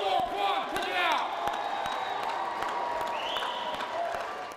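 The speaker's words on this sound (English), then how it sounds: "A little more applause, check it out!" A crowd at a Penn and Teller magic show in London cheers and applauds, a full, sustained din of clapping mixed with shouts and whoops that fades slightly at the end.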